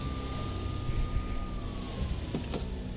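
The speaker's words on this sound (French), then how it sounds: "La Mercedes fonçait vers moi, ouvrant presque le hurlement des sirènes." Sirens in the Max Payne video game wail steadily in the distance, a thin falling tone over a dense rumble of street noise and traffic.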